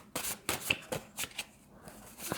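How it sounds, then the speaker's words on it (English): A deck of tarot cards shuffled by hand in several quick, crisp riffling bursts, close and fairly quiet, with short pauses between, no talking. "I'll just give it a good shuffle here."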